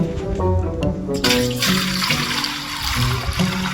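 Tap water gushes into a container while filling at home, with a hollow tonal rush at first that opens into a broad, steady splashing stream.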